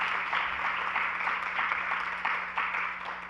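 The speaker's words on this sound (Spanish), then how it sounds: "Un gran aplauso a una gran idea" An audience at a creative brief presentation claps in a steady, dense wash of applause that holds at an even level throughout.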